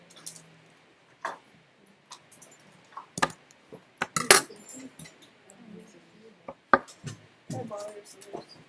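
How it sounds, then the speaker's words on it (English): Irregular crisp snips and crunches of scissors cutting paper along a line, close by, with short pauses between cuts and faint rustling. "you can take your scissors and just kind of cut along that line"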